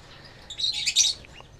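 Lovebird chicks from a PB Vio x Biola Euwing Blue pairing give a brief burst of high, thin chirps, close and fairly clear, lasting about a second.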